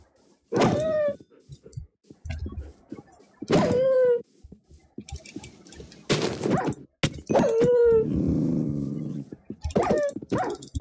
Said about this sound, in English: Here, wolves.